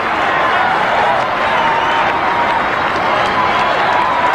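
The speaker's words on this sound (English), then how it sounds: "listen to the crowd" A packed football stadium roars after a touchdown in a 1980 Vikings vs. Saints game, a sustained, dense wall of crowd cheering and noise that holds steady and loud throughout.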